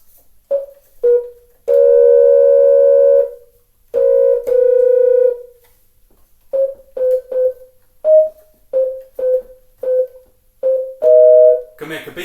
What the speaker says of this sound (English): You can do a busy signal sound.